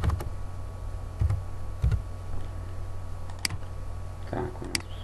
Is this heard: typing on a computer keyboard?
yes